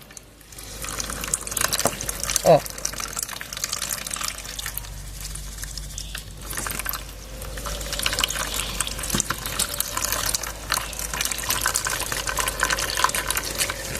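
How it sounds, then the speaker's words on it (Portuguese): Water gushes and trickles steadily through a charcoal-based succulent potting substrate in a pot, a continuous close wet pouring and draining sound with a brief voice near the start. "A água entra e sai."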